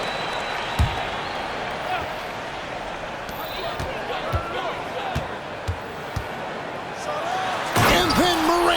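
A Memphis Grizzlies basketball game as Ja Morant slams home a dunk: sharp ball bounces thud through steady arena crowd noise with voices, then a loud swell of crowd roar at the finish.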